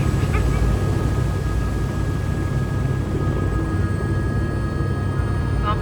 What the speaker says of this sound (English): Well, we're back in the helicopter.